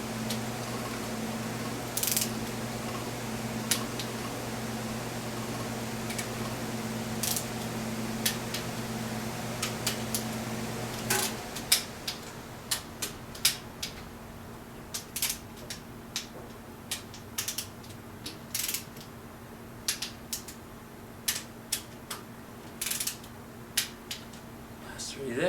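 Cylinder head bolts being tightened on a Rolls-Royce 20-25 engine with a ratchet, giving a series of sharp clicks and ticks, near and moderately loud, over a steady mechanical hum that stops partway through.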